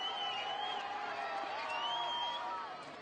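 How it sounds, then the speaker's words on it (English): Spectators cheer and whoop at a schoolboy rugby league match between Patrician Brothers Fairfield and Matraville Sports, a steady, dense crowd roar lasting throughout and easing slightly at the end, with no talk over it. "So see a big cheer"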